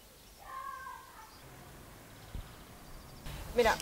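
A house cat gives one clear, fairly quiet meow early on, followed by faint scuffs and a short rustling burst near the end.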